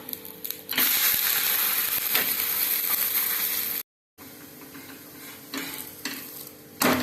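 Butter sizzles on a carrot wheat dosa in a hot pan, a steady, close frying hiss with a few scraping stirs and a short pause partway through.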